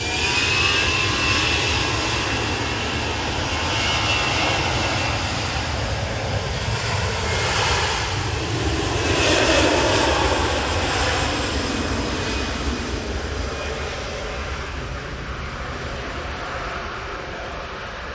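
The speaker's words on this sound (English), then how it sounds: "we've got an Austrian Airlines Embraer on the way in from Vienna" An Austrian Airlines Embraer jet arriving from Vienna gives a steady, moderately loud broadband roar that swells slightly around the middle and holds without pause, with no voices over it.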